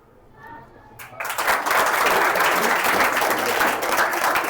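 Applause from an audience at a school event breaks out after a second of quiet and swells into steady, dense clapping that continues loudly to the end.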